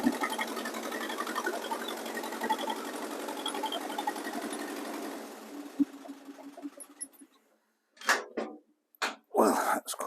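A Massey Ferguson 732 mower engine runs with a steady, dense mechanical chatter for about five seconds, then fades and cuts out, followed by a few short bursts of noise near the end.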